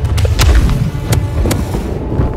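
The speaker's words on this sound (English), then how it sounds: "Cannon grape shot, fire." Ship cannons blasting grape shot in the Blackwake pirate naval battle game, several sharp booms with low rumbling thuds over a constant dense background of battle noise.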